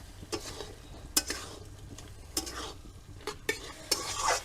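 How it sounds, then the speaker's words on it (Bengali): Raw jackfruit is stir-fried with spices in a pan. The mix sizzles faintly while a spatula scrapes and knocks against the pan in irregular strokes. No one speaks. "এবার আমি এঁচুরটা দিয়ে দেবো আলুটা পরে দেবো এটা ভালো করে এবার কষিয়ে নেবো"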